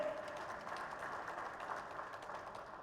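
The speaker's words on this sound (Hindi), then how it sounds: "जोरदार एक बार ताली बजा दीजिए" An audience at a Shri Ramlila Mahasangh gathering applauds for a seated MP, a faint, distant, continuous patter of many hands.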